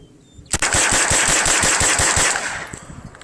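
A machine gun empties a Stinger magazine in one close, loud sustained burst of rapid, evenly spaced shots lasting about two seconds, then stops, leaving a fading echo.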